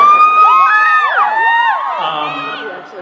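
A crowd at a fan convention panel cheers and whoops, with high overlapping shouts and whistling cries that rise together, then fade slightly toward the end.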